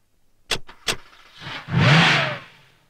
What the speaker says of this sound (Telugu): కారు నెమ్మదిగా బ్రిడ్జ్ దాటించేయండి